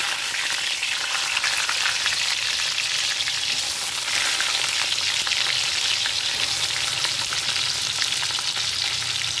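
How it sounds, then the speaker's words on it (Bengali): Pointed gourds (potol) fry in hot refined oil, a loud, dense and steady sizzling crackle that runs unbroken throughout. "এবার আমি পটলগুলো ভেজে নেব।"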